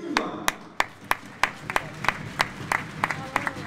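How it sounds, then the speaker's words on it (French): Sparse, scattered clapping from a small handball crowd honours the team captain. Sharp individual claps come every few tenths of a second, fairly faint, over quiet hall ambience. "on peut l'applaudir très très fort la capitaine de cette équipe, Carla Broguer"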